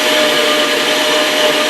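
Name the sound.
meat grinder grinding strips of dried meat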